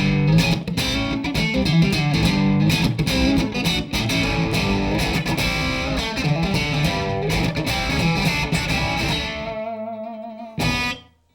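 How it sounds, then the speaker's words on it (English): A driven electric guitar with P90 pickups plays a busy, gritty chordal riff, ending on a sustained ringing chord followed by one short final stab. "The sound of P90s."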